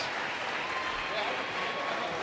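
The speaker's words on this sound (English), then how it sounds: "So a good round of applause by the Garretson fans." Garretson fans applauding during a state girls' basketball tournament game, a steady, moderately distant wash of clapping filling the gym, with faint talk mixed in.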